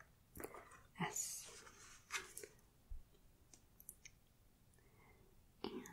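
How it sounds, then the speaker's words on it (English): A Qwerkywriter S, a mechanical keyboard styled like a typewriter, gives scattered crisp key clicks, close and quiet in a hushed ASMR setting, with a soft whispering voice between the presses. "it is a mechanical keyboard that looks like a typewriter"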